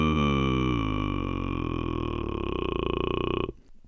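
An inhaled vocal fry sung on the in-breath, ingressive phonation, heard as a steady buzzing, harmonically rich drone held loud and close for about three and a half seconds before cutting off, with no talk over it.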